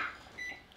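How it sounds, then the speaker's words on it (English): Kitchen timer beeping while being set during double chocolate cake baking, a couple of short faint electronic tones in a quiet kitchen. "So I'm setting my timer."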